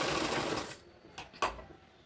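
A sewing machine stitches a cloth bag, running in a steady close whir for under a second before stopping, followed by two brief mechanical clicks.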